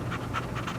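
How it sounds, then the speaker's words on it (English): A dog in the video game Harvester pants rapidly and steadily, with quick close breathy huffs repeating in an even rhythm, alone. "That's a dog."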